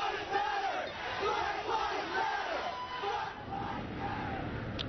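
Protest crowd marching in a street, many voices chanting together in a rhythmic, steady roar at moderate distance, continuous throughout.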